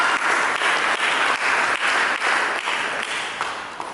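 A church congregation gives a sustained round of applause during a sermon. The clapping is loud and continuous, fills the space, and fades slightly toward the end.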